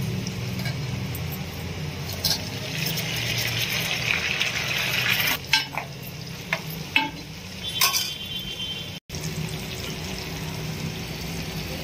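Tomato pieces sizzle and fry with onions in a pan for an egg pulusu, a steady hiss of hot oil broken by occasional stirring clatters.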